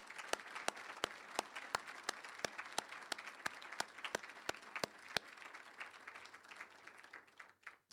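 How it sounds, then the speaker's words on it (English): Audience at an awards event honouring women applauds four winners, a sustained round of clapping with sharp individual claps standing out, fairly faint and distant, fading away toward the end. "I wonder if you'd all join me in one last round of applause for our 4 winners."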